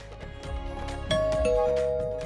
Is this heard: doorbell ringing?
yes